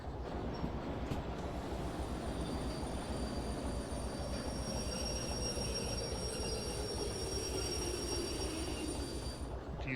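A train rolls along in the video game Derail Valley, a steady rumbling rattle of wheels on track with a sustained high metallic squeal running over it, loud and continuous with no talking.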